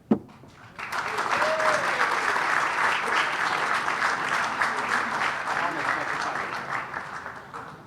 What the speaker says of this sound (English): give them a big, huge round of applause and welcome them